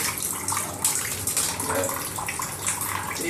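Tap water runs steadily and splashes while a smoothie bottle is scrubbed clean with a toilet brush, a continuous close hiss with bursts of sloshing.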